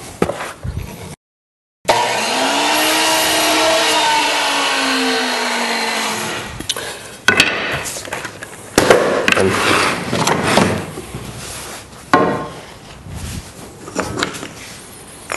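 A chop saw cuts wood for a canvas frame: a loud motor whine spins up, bites through the timber with a falling pitch, then winds down, followed by clattering, knocks and handling of the wood.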